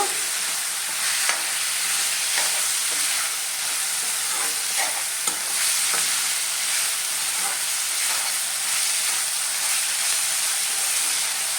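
Cluster beans sizzle steadily in a hot pan, a constant frying hiss with occasional soft stirring scrapes, loud and close.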